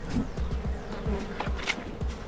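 Honey bees buzz steadily around a swarm trap box during beekeeping work, a dense close hum with several individual bees passing near and away, no voices present.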